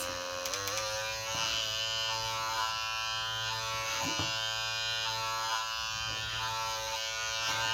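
A Skinvigorate electric facial cleansing brush runs with a steady, close, high-pitched motor buzz that holds for several seconds, with faint dips in tone as it presses against skin.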